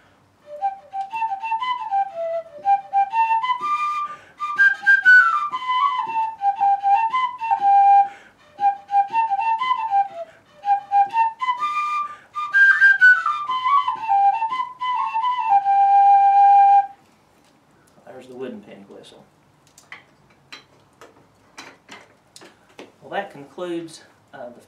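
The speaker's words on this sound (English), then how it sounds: "So this wooden penny whistle is a lot more mellow than the tinny sound of the tin whistle." A wooden penny whistle plays a bright, mellow melody of sustained and trilled notes for about seventeen seconds, loud and close, then stops and a voice speaks.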